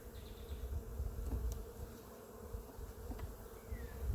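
Honeybees hum steadily around an open beehive being worked with a hive tool, a dense, continuous drone close by with no talking.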